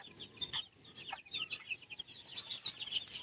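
Racing pigeons kept in a loft give off a busy scatter of short, high chirps and calls, fairly faint and close, with no talk.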